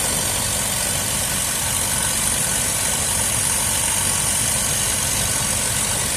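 A Dodge engine idles steadily after its gas line has been replaced, warming up with oil burning off the manifolds; a constant, even rumble with a faint high whine runs throughout, close and unbroken.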